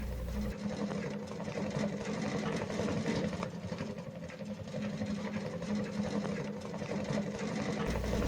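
A Shinpo wood stove burning hard pulls air in with a low, steady, fluttering rumble, faint and continuous, like a softly idling engine.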